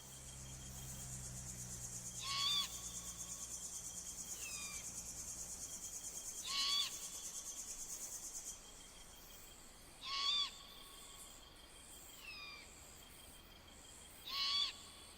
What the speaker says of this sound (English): great horned owls wage a pitched battle for ownership rights to their territories